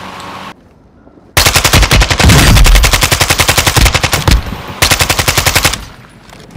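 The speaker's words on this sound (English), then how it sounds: "somebody's shooting at me" Loud automatic gunfire in a video game, long rapid bursts of shots broken by short pauses, close and dominant with no talk over it.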